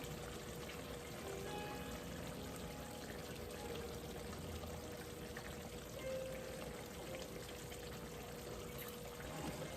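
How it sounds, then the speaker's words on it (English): White vinegar pouring into a cooking pot of mackerel in coconut sauce, a steady continuous liquid trickle close by with a faint background hiss, no talking. "A little bit of white vinegar."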